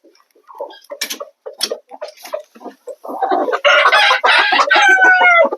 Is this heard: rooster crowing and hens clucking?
yes